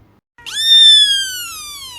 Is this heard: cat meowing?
yes